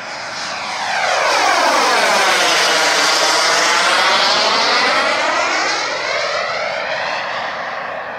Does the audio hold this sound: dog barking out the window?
no